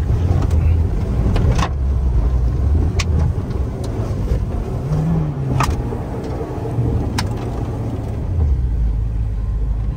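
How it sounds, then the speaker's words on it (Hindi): A low-slung car labours up a steep mountain road near the Line of Control in Keran Valley, its engine rumbling steadily and close for the whole stretch, with tyres straining and scrubbing on the climb. "एक बार में गाड़ी चढ़ रही है ऊपर अल्लाह के शुक्र से, और वो भी इतनी नीची गाड़ी"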